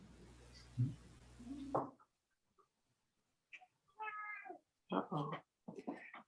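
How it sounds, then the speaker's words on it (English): A hungry cat meowing in several drawn-out, wavering calls that come after a short silence, close and fairly faint, with a brief human voice beforehand. "I have a hungry cat."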